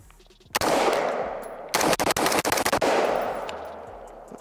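Rapid bursts of gunfire from an LWRCI IC DI rifle at an outdoor range: a single sharp shot, then a quick string of close, loud shots in fast succession, with echoes trailing off.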